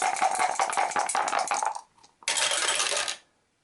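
Dice rattled and rolled on a tabletop during an Arkham Horror board game, two loud clattering bursts of tumbling plastic close by, separated by a brief pause, with no talking.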